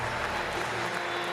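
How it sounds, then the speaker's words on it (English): Wrestling crowd at the Portland Center applauds after a match, a steady, dense wash of clapping filling the short moment, with faint voices mixed in. "enjoying the applause, the appreciation of this crowd in the Portland Center"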